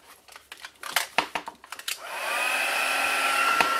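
A heat tool switches on and blows steadily to melt embossing powder on a clear sweetie treat box, its loud even whirring hum following a string of light clicks and handling taps.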